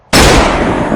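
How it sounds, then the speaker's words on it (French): A single loud gunshot cracks suddenly out of near silence, then a broad, noisy boom trails off over the rest of the second, close and alone with no voices. "C'est un coup de feu."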